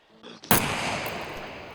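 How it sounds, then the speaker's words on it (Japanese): A Tommy gun fires in the survival game SCUM, one loud sharp burst that cuts off into a long booming echo, following faint low sounds at the start of the clip. "トミーガンが銃声が少し大きいのかもしれないね"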